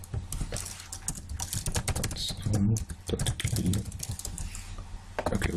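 Keys pressed on a computer keyboard while coding JavaScript, a close stream of clicky taps in irregular bursts, with a person speaking over them for a brief moment.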